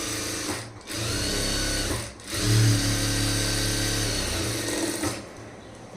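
A sewing machine runs steadily while stitching the lining cloth of a blouse. It whirs continuously, with two short pauses in the first few seconds before it settles into a longer uninterrupted run, and no one speaks.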